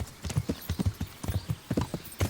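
Horse hooves clip-clop on a path in the medieval video game Kingdom Come Deliverance, a steady quick rhythm of close, fairly soft hoofbeats repeating throughout with no talk over them.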